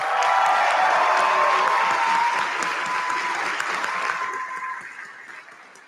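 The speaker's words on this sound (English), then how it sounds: "Please join me in applauding them." A graduation ceremony audience at the University of Western States applauds faculty with dense, sustained crowd applause that gradually fades out toward the end.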